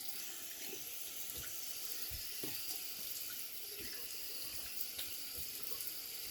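Steady splashing water from a running tap into a sink, close and continuous, with small knocks and clunks mixed in.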